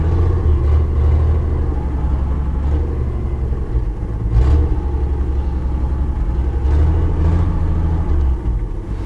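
A 1960 Chevrolet engine idles and runs steadily up close, a loud continuous low rumble with a brief surge partway through, no voices over it.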